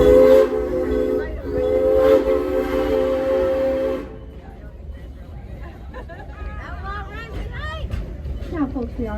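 A theme park steam train at Silver Dollar City gives a loud, sustained whistle blast for about four seconds, then rumbles on while a crowd of passengers chatters and shouts nearby.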